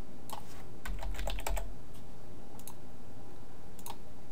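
Code is typed on a computer keyboard in quick bursts of sharp close clicks, separated by short pauses, with no talk.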